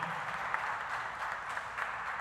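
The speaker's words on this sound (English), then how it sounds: "give your parents, your family members, all a round of applause" Graduation ceremony audience applauding parents and family: a faint, distant wash of steady clapping from a large crowd, heard as a continuous soft hiss without clear individual claps.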